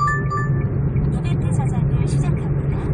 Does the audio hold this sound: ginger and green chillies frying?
no